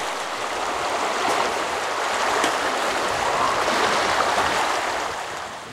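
A fast mountain stream with a strong current rushes in a dense, steady broadband roar, close and continuous throughout.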